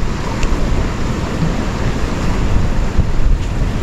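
Ocean surf on a beach where the water has wrecked shoreside shelters, a steady loud roar of breaking waves with wind buffeting the microphone throughout and no voices.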